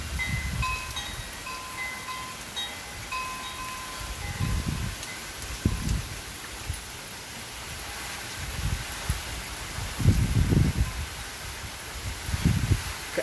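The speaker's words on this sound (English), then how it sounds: "Look at how that wind is pushing that rain too." Wind-driven rain during Hurricane Isaias in 2020: a steady hiss of rain and rustling foliage with low gusts swelling and fading, while thin high chirping calls repeat in the background.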